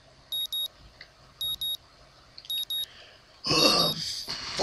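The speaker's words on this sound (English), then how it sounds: "Ugh, fucking alarm," Morning alarm clock in the visual novel Katawa Shoujo, beeping in three short double bursts, each pair of bright tones repeating about once a second, before a louder burst of noise takes over at the end.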